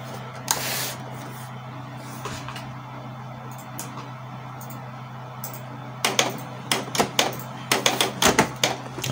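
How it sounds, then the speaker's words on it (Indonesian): A Canon inkjet printer starts printing after an unrecognized ink cartridge fault is cleared, giving quiet mechanical clicks and rattling bursts that grow busier in the last few seconds over a steady low hum. "Sekarang kita perintah buat print."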